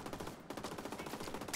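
Rapid bursts of video game gunfire rattle steadily and densely for the whole moment, close and fairly loud, with a brief dip partway through before the shooting resumes.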